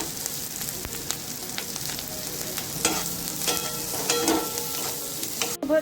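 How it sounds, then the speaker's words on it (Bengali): Chopped green and red chillies, carrot and capsicum fry in a hot pan, a steady close sizzle with stirring scrapes and a few louder clatters near the end. "এরপর দিয়ে দিচ্ছি কুচিয়ে রাখা কাঁচা পাকা লঙ্কা, গাজর আর ক্যাপসিকাম। এগুলো সবগুলো দিয়ে খুব ভালো মতো করে ভেজে নিচ্ছি"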